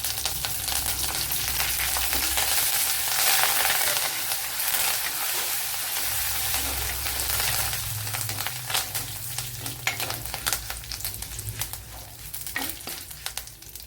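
Curry leaves dropped into hot oil for a chickpea curry: a loud, steady hiss of frying that swells early, then crackles and pops more sparsely as it settles, close up with occasional stirring and no talking.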